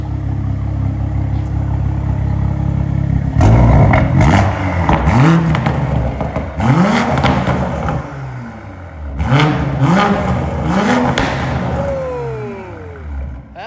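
A Toyota Supra fitted with a new downpipe exhaust idles with a low rumble, then is revved hard several times, each blip rising and falling in a loud, close roar.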